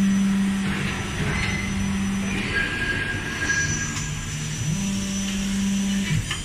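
The loading motor of a WELLISH 410-ton plastic injection molding machine runs with a steady low mechanical hum and a whining tone that shifts pitch and cycles partway through, close and alone.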